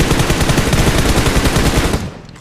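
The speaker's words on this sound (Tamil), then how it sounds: "நான் சும்மாதான் சுட்டேன்." Dense, rapid automatic gunfire from the mobile battle royale game PUBG Mobile rattles loudly and steadily for about two seconds, then cuts off abruptly into a quieter tail.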